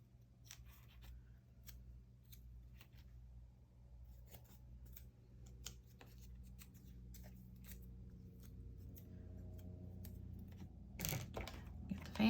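Tape is pulled and pressed down over a stamped image on a mixed-media artist trading card, giving a run of short crisp ticks and rustles over a steady low hum, with a louder sharp tearing burst near the end.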